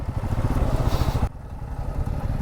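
A motorcycle engine rumbles steadily up close, then abruptly drops in level partway through and carries on as a lower, idling throb.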